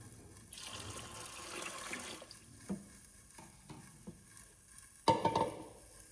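Water pours and splashes into a pressure cooker holding pigeon peas, in soft uneven bursts with a louder splash near the end, close and fairly quiet.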